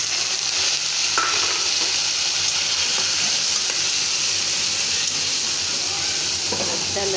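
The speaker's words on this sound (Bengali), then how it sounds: "আমি এখন ডালটা ঢেলে দেবো।" Dal with egg going into a pan of cumin, onion and garlic, giving a loud, steady sizzling hiss with faint stirring scrapes, close and continuous, without speech.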